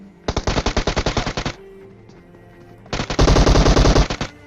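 Automatic weapon fire in the PUBG Mobile video game: two long rapid bursts of loud, evenly spaced shots separated by a short pause, the second burst slightly harsher and denser.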